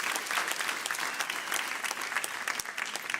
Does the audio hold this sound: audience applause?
yes